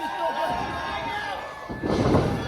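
In a tag-team pro wrestling match, a wrestler is driven into the mat with a bulldog, landing as a heavy thud that bursts out of steady crowd noise, with commentators talking throughout.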